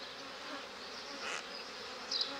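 Honeybees buzzing at an opened hive holding a small swarm, a steady close hum of many wings with a few individual bees rising briefly louder as they fly past.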